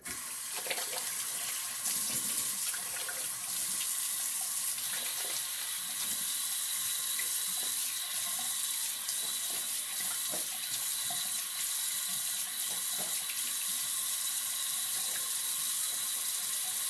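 Tap water runs steadily from a faucet into a sink for a rinse after a shave, a continuous close hiss and splash with no talk.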